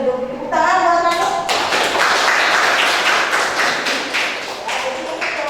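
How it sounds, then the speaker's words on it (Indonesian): A classroom of children claps for a classmate, with a sustained burst of fairly loud applause and tapping running almost the whole time, and a voice heard briefly at the start. "Tepuk tangan buat Rani"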